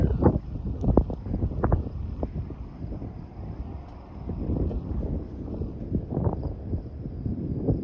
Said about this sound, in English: Wind dies again.